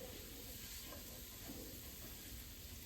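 Steady, soft sizzle of butter, flour and mushrooms cooking together as a roux in a pan, a constant low hiss and crackle with no voices.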